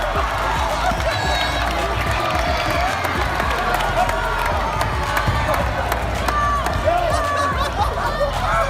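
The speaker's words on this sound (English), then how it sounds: "and the crowd cheered." Basketball game crowd cheering and shouting in a steady roar, with children's voices and some clapping mixed into dense babble throughout.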